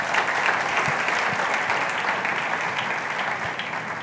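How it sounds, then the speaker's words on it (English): An audience at a talk on Africa and Nigeria's strategic role applauds, a dense, steady wash of clapping that continues evenly throughout. "Please, a round of applause for them right there."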